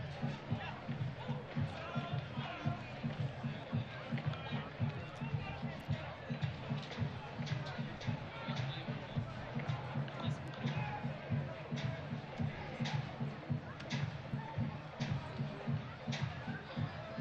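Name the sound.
faint drums of the Magic City Brigade supporters across the park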